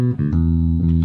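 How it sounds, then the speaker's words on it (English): Isolated low-frequency effects bass channel from a multichannel mix: deep, loud, sustained bass tones with little upper content, shifting pitch a few times over about a second. "this is the LFE channel, the bass channel, at least the low frequency effects channel"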